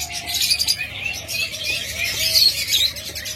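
Japanese budgerigars chirping, a breeding pair among other caged birds, a dense stream of high twittering and warbling calls, close and continuous with no break.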